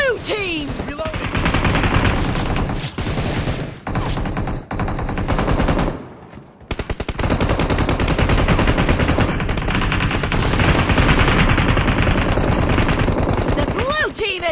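In a PUBG Mobile team deathmatch, loud automatic gunfire rattles in long, dense bursts, dropping out for a brief gap midway before resuming at full volume, with game voice announcements mixed in.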